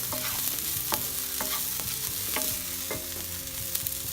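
Pasta ingredients sautéing in a pan, a constant close sizzle broken by regular scraping and stirring strokes from a utensil about every half second.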